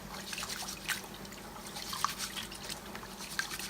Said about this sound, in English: we're gonna wash our rice